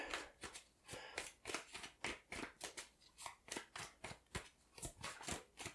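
Tarot cards being drawn and handled from a deck: a quick run of crisp papery flicks and slides in an uneven rhythm, close and quiet, with no talking.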